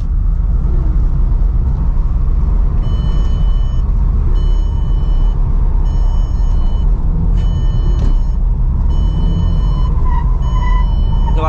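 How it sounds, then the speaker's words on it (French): A front-wheel-drive car's tyres squeal in steady high-pitched bursts as it slides around a roundabout, over a loud, constant engine and road rumble. "Vous entendez les pneus, ils crissent."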